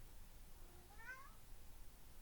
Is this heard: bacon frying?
no